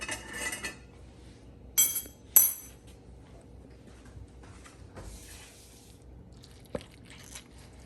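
Utensils cut into and scoop baked mac and cheese from a baking dish: a few sharp metal clinks and scrapes against the dish, close up, between quieter stretches.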